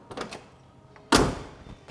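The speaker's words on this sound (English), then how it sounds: "Good solid door close." A few light clicks and rattles, then one solid, muffled thud of a 1969 Ford Mustang door shutting nearby, fading quickly.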